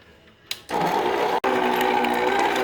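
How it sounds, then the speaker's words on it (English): An electric mixer mixing cream cheese on low starts up with a click and then hums loudly and steadily, cutting out for a split second before running on. "We're going to put the mixer down, and we're going to turn it on low."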